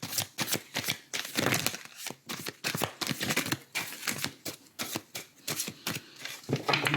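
Two oracle card decks mixed together are shuffled by hand in quick, repeated riffling bursts, close up and crisp, with brief pauses between flurries and no talking.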